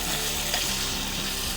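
Fried rice sizzles loudly in a hot pan as it is stir-fried, a dense continuous crackle with faint scraping of stirring, close up and without talk.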